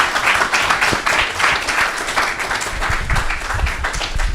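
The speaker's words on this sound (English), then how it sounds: "a round of applause, please" An audience at a spring symposium on democratic futures claps for the panel, steady moderate applause throughout without a break.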